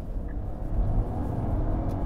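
Steady low engine and road rumble inside a Nissan Aura as it drives and merges into traffic, a continuous close drone without distinct peaks.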